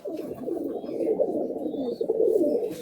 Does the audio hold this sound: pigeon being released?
yes